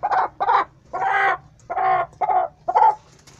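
A hen clucking in a rural yard in Mamanguape, Paraíba, Brazil, six distinct rhythmic cackling calls in a row, close and clear, with no talking.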